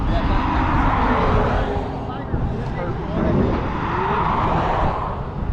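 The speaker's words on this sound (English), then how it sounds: "I hear them warming up the tires." Street-racing motorcycles roar continuously while warming up their tires at a roll-racing event on a road in Mexico in light rain. The engine noise is loud and sustained, with rises and dips in intensity.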